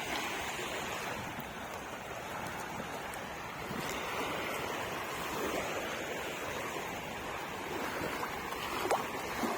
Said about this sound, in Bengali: নদীর অনেক ঢেউ।